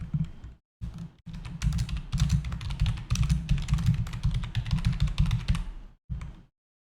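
Someone types a name on a computer keyboard in rapid, close-up bursts of crisp key clicks, with brief pauses at the start and a short final flurry before silence; no voices.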